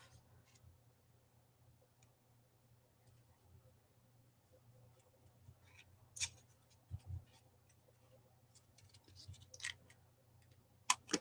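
Scissors snipping paper for a stamping craft, several faint, separate crisp cuts and clicks scattered over a quiet room hum.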